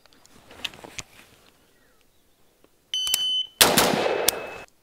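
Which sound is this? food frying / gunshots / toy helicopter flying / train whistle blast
gunshots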